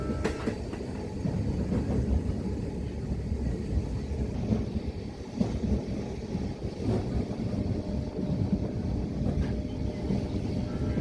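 A moving passenger train heard from inside the carriage, a continuous low rumble with steady rail noise and faint clicks throughout, with no talking.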